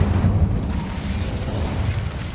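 Incendio fire spell cast in the Hogwarts Legacy video game, a loud low whooshing burst of flame that rumbles on and slowly fades.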